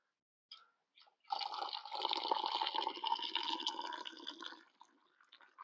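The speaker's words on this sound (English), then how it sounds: "when you boil your tea, you should pour it from as high as you can, because that splashing will kind of re-aerate it" Hot tea poured from a height into a cup beside an old teapot outdoors at a Northern Nova Scotia overlook, a steady splashing stream lasting several seconds, close and fairly loud, preceded by a couple of small clinks and ending in faint drips.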